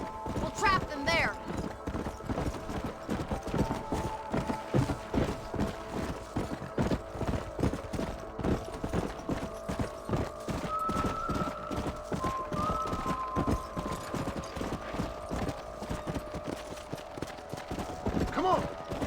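Rapid rhythmic hoofbeats of horses galloping in Red Dead Redemption continue under a steady background, with brief whinnies and occasional voices.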